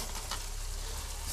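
Rabbit pieces go into a pan of sauce for a slow-cooked stew, giving a steady, close sizzle and frying hiss that holds even throughout, with no voices.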